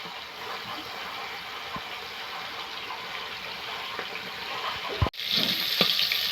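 Lotte fish fries in a pan with a steady sizzle that holds throughout, sharpening into a brighter hiss near the end, with no talk.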